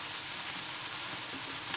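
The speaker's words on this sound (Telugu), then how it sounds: "ఎర్రగా అయ్యే వరకు వేయించాలి" Chicken frying in a pan, a steady, even sizzle that holds without pause from start to finish, close and fairly loud with no talking.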